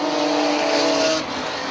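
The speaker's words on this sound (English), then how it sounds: "That car's fast." A dirt modified race car roars past on Airborne Speedway in Plattsburgh, NY, with a loud, steady engine whine that drops off sharply as it goes by.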